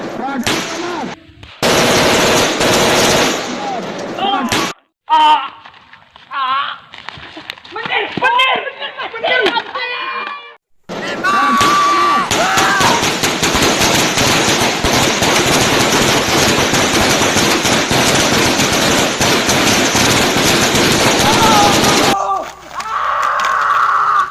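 Gunfire during an attack in an Indonesian independence-fighter war drama: loud, dense bursts of rapid machine-gun fire with a brief gap of scattered shots and shouting voices in between.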